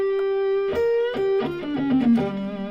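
Sustained electric guitar notes with a thick, overdriven tone from a Zen Drive distortion pedal, single lines bending and sliding into a short melodic phrase, loud and close with no talking.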